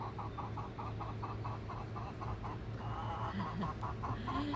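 A Wyandotte hen and other backyard chickens complain with a steady run of repeated soft clucks, fairly close but quiet, over a constant low outdoor hum.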